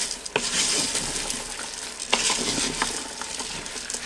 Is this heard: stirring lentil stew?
yes